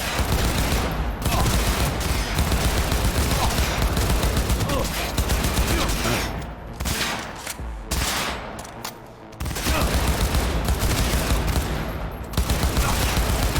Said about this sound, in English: Freaking recoil on these guns is quite insane.